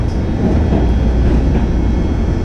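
A BART train rumbles along on the ride from San Francisco to SFO airport, a loud steady low roar of wheels and car noise from inside the carriage.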